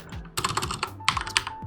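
Quick burst of typing on a computer keyboard, close and fairly quiet, with a rapid irregular run of key clicks entering text into mining software.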